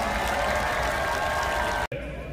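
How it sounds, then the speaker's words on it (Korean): A large outdoor crowd at a presidential election campaign rally in Seoul City Hall Plaza applauds in a loud, continuous roar of clapping that cuts off abruptly near the end, with some speech mixed in. "조명희님께 다시 한번 큰 박수 부탁드리겠습니다"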